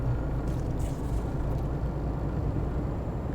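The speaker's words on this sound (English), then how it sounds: "Love to redline an engine." A truck engine revs near its redline in Euro Truck Simulator 2. The drone is steady and loud, with dense low rumble held the whole time and no voices.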